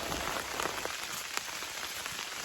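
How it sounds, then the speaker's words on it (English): Steady rain falls on a farm in a forest setting, a dense continuous hiss with scattered louder drop hits, alone with no voices. "because this rain, finally I wanted it to rain, has eventually rained."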